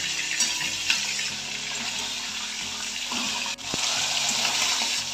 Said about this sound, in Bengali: এবার মাছের মাথাগুলো একটা একটা করে আমি ভাজবো